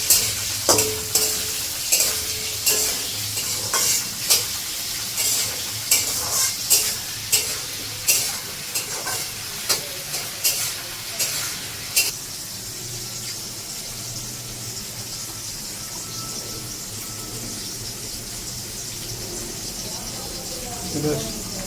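Mustard oil frying and sizzling in a pan, with a steady hiss under repeated clanks and scrapes of a stirring spoon for about twelve seconds, then a quieter continuous sizzle as a voice speaks.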